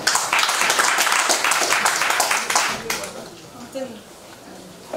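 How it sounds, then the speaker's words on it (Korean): An audience at a gallery exhibition opening applauds to welcome the host, a burst of close, dense clapping that dies away after a few seconds, followed by quieter room sound and faint voices. "박수로 맞이해 주십시오."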